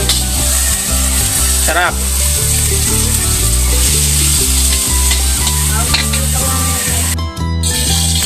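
Meat fries in its own rendered fat in a pan while being stirred, giving a loud continuous sizzle broken by scraping utensil strokes, with a brief spoken word partway through.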